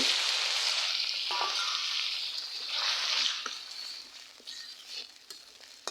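Water hits a hot wok of frying chilies and onions, bursting into a loud hiss that swells and fades, then settles into quieter sizzling with a few utensil clicks.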